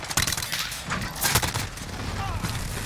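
Uzi submachine gun fired in Call of Duty: Modern Warfare (2019), rapid bursts of close, sharp gunshots and impacts in a chaotic match, with faint voices underneath.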